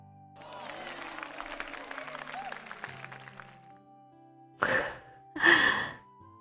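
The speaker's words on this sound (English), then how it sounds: "I took the Wii golf noise of them clapping in the audience and going ooh" Homemade sound effect built from layered 'ooh' voices and Wii golf crowd applause: a low murmuring swell of voices for about three seconds, followed by two loud, short bursts of clapping.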